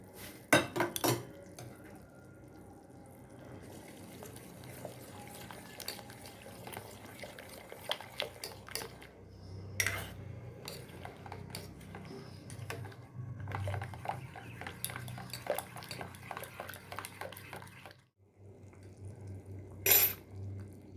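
Mashed mango going into a pan for an oil-free, wedding-style chutney, with clinking and scraping of utensils against metal, wet stirring, and sharp knocks scattered throughout, fairly faint and close.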